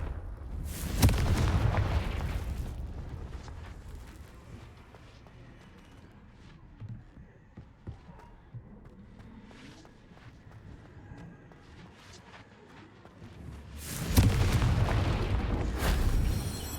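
Confringo explosive spell going off in Hogwarts Legacy, a loud booming blast at the start and another near the end, with quieter rumbling game sounds between them.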